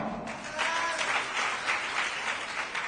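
A crowd at a political party gathering applauds to welcome the state party president, with a dense burst of clapping that holds steady for a few seconds.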